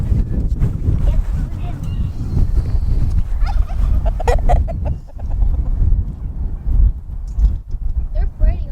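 Turkeys cluck and call near their feeder on a farm, scattered short bursts heard over heavy wind rumble on the microphone, with people talking close by.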